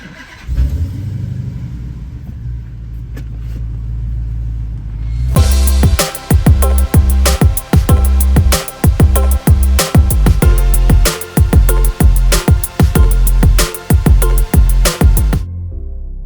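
A car engine starts and revs repeatedly in sharp, loud bursts over a steady mechanical drone, all close by and with no talk.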